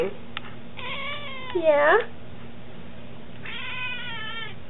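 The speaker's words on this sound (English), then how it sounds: "I don't think that was a happy meow" A cat lets out a drawn-out, rising, complaining meow, loud and close, with a softer meow trailing after; a person briefly speaks nearby.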